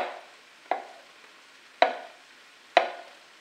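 Mushroom pieces dropped into a hot pan, heard as three sharp, separate impacts, each tailing off into a brief soft sizzle, close by and with no talk.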